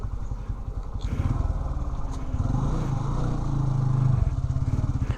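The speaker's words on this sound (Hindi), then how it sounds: "अंदर ही पार्क कर लेते हैं बाइक को।" A motorcycle engine runs close by outside a post office, chugging steadily with a rhythmic beat that swells slightly louder as the bike rolls in and settles before stopping, with faint background noise.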